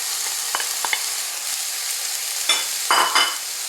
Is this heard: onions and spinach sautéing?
yes